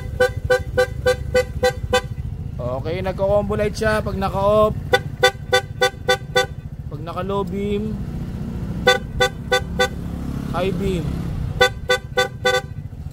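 A Rusi RFI 175 motorcycle sounds its stock horn and an added PAA horn in bursts of short, rapid, evenly spaced toots, loud and close, with a person talking between the bursts.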